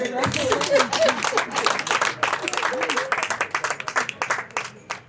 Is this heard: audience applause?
yes